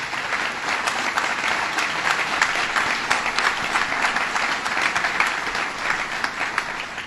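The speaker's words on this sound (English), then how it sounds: "let's give them a round of applause for their good work" Sustained applause from an audience at a New York governor's address on the legislative session, dense and steady, fairly loud, filling the room without a break and with no voices over it.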